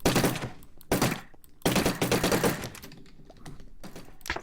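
Rapid automatic gunfire from a video game mini-game server, crackling in dense bursts with short gaps between them, loud and close, with no talk over it.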